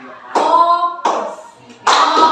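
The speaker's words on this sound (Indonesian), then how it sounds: "Tepuk dua. Tepuk tiga. Tepuk empat." Hand claps in a classroom clapping game, coming in three loud bursts of rapid claps with short pauses between, like counted rounds of a group clap.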